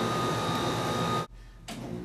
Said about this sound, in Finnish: Ilmastointilaite.